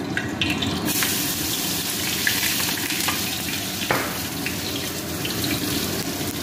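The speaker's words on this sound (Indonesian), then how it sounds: "itu minyaknya udah agak panas kita masukin bumbunya" Spice paste with chilies dropped into hot oil for cap cay, a loud, dense, continuous sizzle with a few stirring clicks, close up and without speech.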